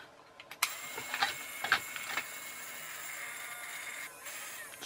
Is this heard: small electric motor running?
yes